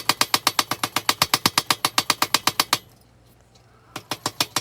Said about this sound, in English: That hammer is really putting some vibration into the ground.